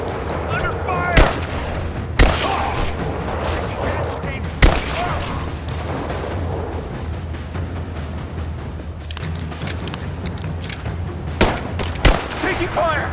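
Gunfire from enemy soldiers in the Rise of the Tomb Raider video game, a busy firefight with sharp shots and bursts scattered over a rumbling battle bed, with game characters shouting throughout.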